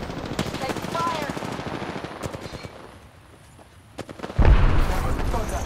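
Rapid automatic gunfire rattles through an Apex Legends Arena match, dense bursts in the first seconds thinning out, then a heavy close burst near the end, with game voices talking over it.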